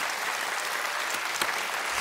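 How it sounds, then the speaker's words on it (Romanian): Steady applause from a studio audience at a Romanian stand-up comedy stage show, dense and continuous clapping throughout with no voices. "Atenție, aplauze!"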